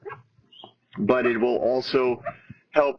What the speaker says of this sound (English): You can hear my dog in the background.